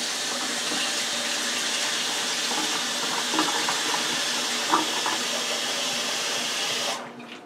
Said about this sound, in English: pour hot water over them and let them sit for about 5 minutes